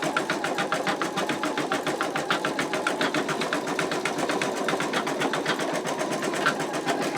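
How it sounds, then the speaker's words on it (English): An embroidery machine stitches out an in-the-hoop wallet, its needle hammering in a fast, steady rhythmic chatter over a light motor hum, close and continuous with no talking. "it is stitching"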